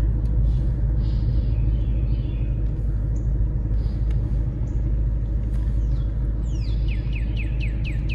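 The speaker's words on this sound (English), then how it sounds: "See how this stock exhaust sounds at a little cruise." A 2014 Ford Mustang GT V8 on stock exhaust cruises slowly with a constant deep, droning rumble, while faint bird chirps trill above it toward the end.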